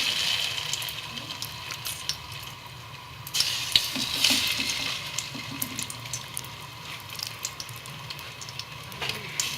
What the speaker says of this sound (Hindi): फिश को फ्राई करेंगे तो इसके लिए मैंने घी गरम कर लिया है और इसके अंदर हम फिश के पीसेस डाल देंगे।